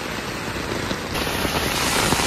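A heavy downpour drums and hisses steadily on surfaces close by, dense and constant throughout with no voices.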